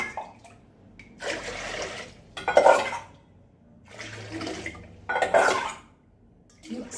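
Water sloshes and splashes as a traditional stone grinding stone is rinsed by hand, in four or five separate bursts of scrubbing and pouring with quiet gaps between.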